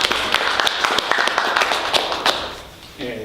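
An audience at a book launch in a bookstore breaks into scattered applause, with uneven individual claps standing out against a busy room. A voice briefly starts speaking as the clapping tapers off.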